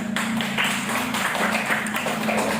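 A classroom group of students claps for their classmates, a dense and fairly loud patter of many hands over a steady low hum, with no talking.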